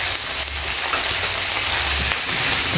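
Thyme goes into a hot pan of sweet and sour chicken, and a loud, steady sizzle of frying fills the scene with no talking.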